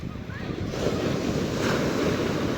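Rough sea waves roar and crash continuously, with heavy wind buffeting the microphone and a deep rumbling surge throughout.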